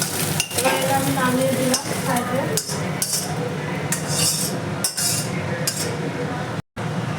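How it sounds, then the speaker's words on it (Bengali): Oil sizzling steadily in a pan while a utensil stirs and scrapes, with occasional clinks of metal against the pan. "আমি খুব বেশি ভাজবো না হালকাই ভাজবো"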